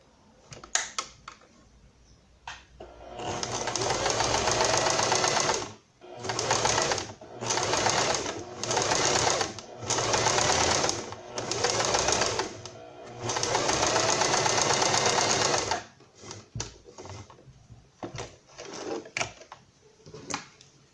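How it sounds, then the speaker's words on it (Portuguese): Sewing machine running a straight seam on a small Barbie doll dress, close and clear in several bursts of rapid whirring stitches separated by short pauses, with quieter handling noises at the start and end. "Então você põe aqui no lado do avesso e passa uma costura reta."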